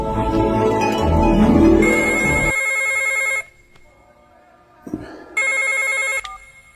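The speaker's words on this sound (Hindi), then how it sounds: "जल्दी आइए, इंडिया से फोन आ गया, जल्दी करें" A telephone rings loudly with an electronic warble, over a busy noisy background at first, then two clear rings separated by a quiet gap.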